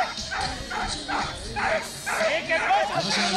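Dog barking and yipping in short repeated bursts at a dog competition, with someone talking over it.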